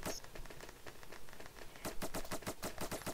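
Rapid bursts of foam blaster fire in a Roblox Foam Frenzy match, a fast rattling string of sharp pops that quickens and grows louder partway through, with no talking.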